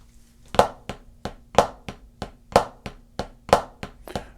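Swiss Army Triplet rudiment on a snare drum: crisp, evenly spaced strokes in a steady triplet rhythm with a recurring louder accent every third note, close and clear with no talking.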